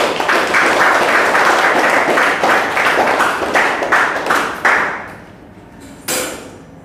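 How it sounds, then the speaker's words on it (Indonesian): Classroom of students applauds, a loud crowded burst of clapping that thins into a few scattered claps and then a final single clap after a near-silent gap. "Kita berikan tepuk tangan untuk kalian semua."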